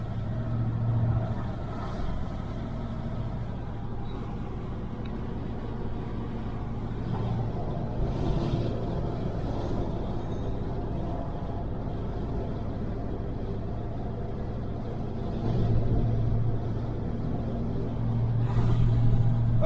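A restored 1968 Chevelle Nomad cruising at about 50 mph gives a steady, loud low engine and road rumble inside the cabin, with slight swells in level and no speech.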